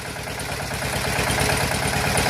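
A tractor engine runs steadily during road-deepening work, a loud, close, low rumble with a regular pulsing throb and no voices.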